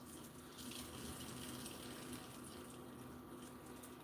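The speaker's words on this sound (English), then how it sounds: "I'm pouring the hot water in the sink" Hot water pours steadily into a sink holding lemon slices, a continuous rushing splash with no pauses, close and fairly loud, with no talking over it.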